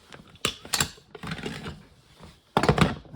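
A SIG P320 pistol is field stripped at close range, with metallic clicks, slide scrapes and clacks in a few short bursts separated by brief pauses.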